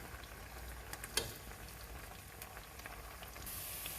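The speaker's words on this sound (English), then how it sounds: "it's always good to fry it a little bit first" Okra (bhindi) fries quietly in a pan, a faint steady sizzle with a few small pops and a brief louder crackle, heard close with no voices.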